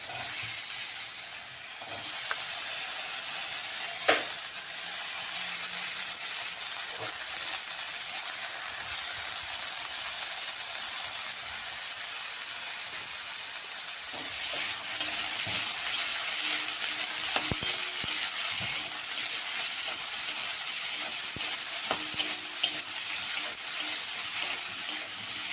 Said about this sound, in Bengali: এই তেলের মধ্যে আমি বেগুন ভেজে নেব।